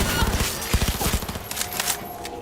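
Rapid gunfire rattles in the Cyberpunk 2077 video game on very hard difficulty: a quick, close burst of shots followed by a few more scattered reports.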